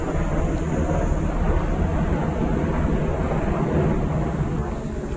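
Helicopter passing over a wooded mountain trail at Cheonggyesan, heard as a steady, loud broadband rumble with wind buffeting that holds throughout, with no talking.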